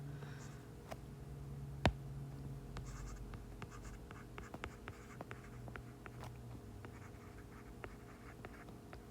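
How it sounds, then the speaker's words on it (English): Pen scratching on paper while jotting chemistry notes, faint soft strokes and small taps in a quiet room, with a single sharper click near the start. "I'm going to write it down"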